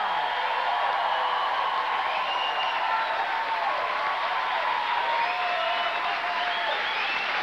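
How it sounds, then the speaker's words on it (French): A television variety show audience applauds a live band in a dense, sustained wave of clapping and cheering, loud and steady throughout. "je vous demande de les applaudir"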